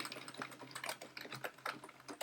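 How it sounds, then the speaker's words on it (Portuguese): Numbers are typed on a computer keyboard in quick, uneven bursts of soft clicking keystrokes, close and fairly quiet, with no voices. "Estou digitando, mas ele só vai pegar 4 caracteres"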